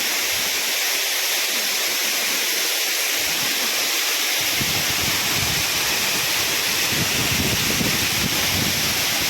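Barakanya Waterfall in Nayagarh roars as a steady, loud, broadband rush of falling water, continuous throughout and filling the scene, with deeper churning rising midway and no talking.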